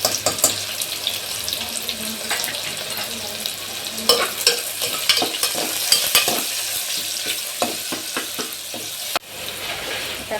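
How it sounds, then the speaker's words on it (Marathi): Curry leaves, cumin, onion and ginger-garlic paste frying in hot oil make a close, busy sizzle with frequent clattering spoon stirs and scrapes throughout, with a sharp knock near the end and no talking. "आता कढीपत्ता जिरं टाकलंय. आता कांदा टाकूया. आता आपण थोडीशी आलं लसूण पेस्ट पण टाकूया."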